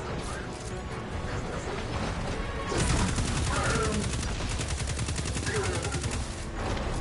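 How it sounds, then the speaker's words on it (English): Rapid assault rifle fire in Destiny 2 rattles in fast, even bursts, loud and close, over a busy backdrop of other shots and impacts. "I'm using the Deathstalker A4U. It's a really good assault rifle."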